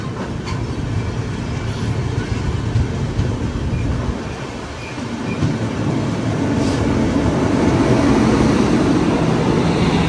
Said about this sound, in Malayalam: Normal express train.